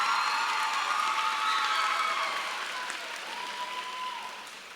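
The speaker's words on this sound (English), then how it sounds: "Let's give a round of applause to the 8th grade class" Applause from an audience at a 2019 eighth-grade promotion ceremony, a steady, dense wash of many hands clapping that fades gradually toward the end, with no talk over it.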